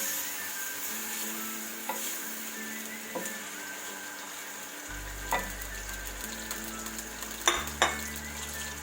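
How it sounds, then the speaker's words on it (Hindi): Half a kilo of chicken sizzles steadily in hot oil, a constant crackling hiss with a few sharp clinks of a utensil against the pan, and no voices. "ये ऑयल गर्म होने पे ये चिकन में डाल रही हूँ।"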